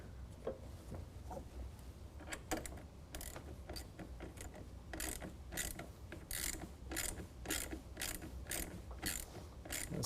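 A ratchet with a Torx T25 bit tightens a bolt while installing a manual retractable tonneau cover on a 2019 Silverado, giving quiet, rapid clicking pawl strokes in a steady series.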